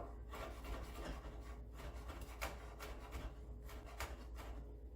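Garlic being chopped finely with a knife on a board for lasagna, a run of soft, close, rhythmic rubbing and scraping strokes, quiet and alone without talk.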